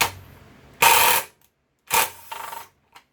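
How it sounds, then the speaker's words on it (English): Ratchet with a 5/16 socket backing bolts out of the top of a Briggs and Stratton-powered log splitter that won't start: a couple of short, close bursts of clicking and metallic rasping separated by quiet gaps, with no talk. "And then we're going to use a 5/16 socket."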